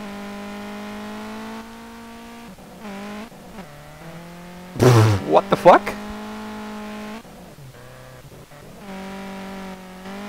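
A 500-horsepower Audi S3 8L in the racing game SLRR drones at a steady engine pitch that shifts through gears, then bursts into a loud screeching, revving flare mid-clip before settling back, with someone talking and exclaiming over it.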